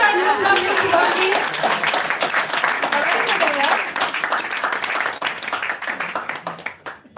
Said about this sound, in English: I think a big round of applause for Shubhangi.